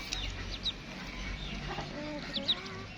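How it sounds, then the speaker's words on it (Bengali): A free-roaming local hen clucks faintly a few times, the soft calls scattered over quiet outdoor background noise. "পাশে একটা দেশি মুরগি ঘোরাঘুরি করতেছে।"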